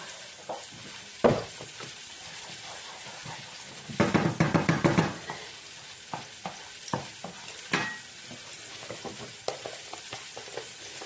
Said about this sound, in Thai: ส่วนกระทะนี้ทอดหมูจ้ะ